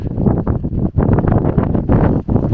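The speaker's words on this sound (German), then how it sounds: "der Wind kommt uns entgegen" Strong wind in a hazy, sandy desert of red sand ringed by mountains roars and buffets the microphone, loud and continuous with brief dips, and no voices.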